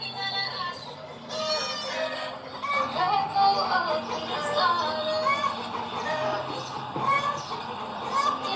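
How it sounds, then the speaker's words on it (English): Chickens clucking and squawking on a farm, a dense, continuous chorus of overlapping calls close by, with a person talking over the flock. "Can't hear anything with all the chickens, can you?"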